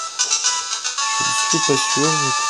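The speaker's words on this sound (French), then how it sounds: "c'est une sonnerie de message" A short, bright electronic message ringtone in Pokémon Sapphire chimes several times in a clear melodic pattern, with a person talking over the end of it.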